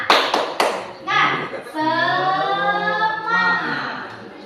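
Children perform the 'tepuk semangat' clapping chant in a class, with a few sharp rhythmic claps followed by a group of young voices shouting the chant together.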